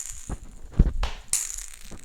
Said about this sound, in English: Got my audible tennis ball now, if you're wondering what that sound is.